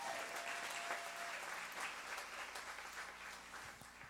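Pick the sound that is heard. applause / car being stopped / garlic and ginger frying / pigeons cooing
applause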